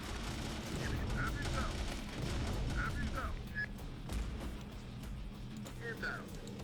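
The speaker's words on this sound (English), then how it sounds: "We have high explosive incendiary ammo coming down on them" High explosive incendiary rounds fire and burst in the video game Terminator: Dark Fate - Defiance, a rumbling barrage of booms and distant impacts running steadily beneath talking voices.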